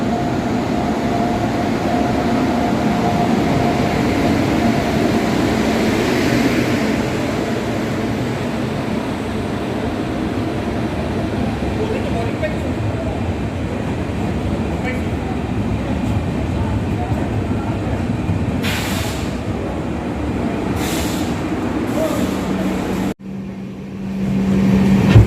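Steady rumble and rattle of the Guwahati–New Jalpaiguri Intercity Express 15676 running along the track, heard from inside a carriage, continuous and loud with a few brief knocks near the end.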